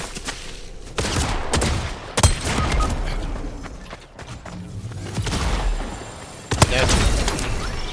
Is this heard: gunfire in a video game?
yes